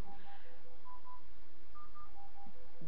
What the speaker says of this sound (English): oh, sorry about my phone.